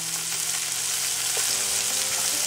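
Carrots and celery sauté in a pan, giving a dense, steady hiss of sizzling up close, with a faint low clink partway through and no voices.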